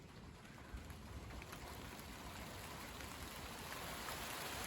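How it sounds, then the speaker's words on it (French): Rain falls in a wintry shower, a soft, dense hiss of drops that swells gradually over a few seconds and plays alone at low volume. "Ça y est, il pleut."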